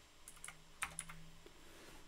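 Keys tapped on a computer keyboard while entering a search in a settings editor, a short burst of light clicks with one sharper keystroke, close and fairly quiet, with no voice.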